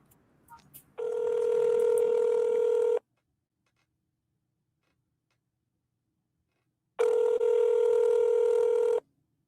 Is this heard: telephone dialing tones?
yes